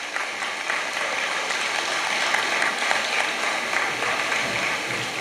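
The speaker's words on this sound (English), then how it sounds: "Can we give them a round of applause?" A pep rally crowd applauds teachers, dense continuous clapping filling the room for several seconds at an even, loud level.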